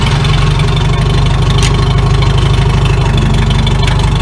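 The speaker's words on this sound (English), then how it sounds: "So let me just start it up and you can hear it." An old seeding rig's small engine starts at once and settles into a loud, steady, close idle with an even rapid chugging pulse throughout.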